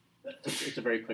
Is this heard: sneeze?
yes